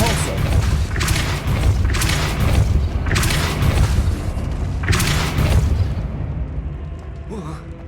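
Repeated Depulso spell effects in Hogwarts Legacy, about five deep booming bursts at roughly one-second intervals, loud and close, fading into quieter rumble at the end, with speech in the background.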